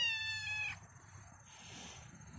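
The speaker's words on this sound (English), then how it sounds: "Meow." A kitten gives a single clear, close meow with a bright harmonic, high-pitched cry, followed by quiet room noise and faint rustling.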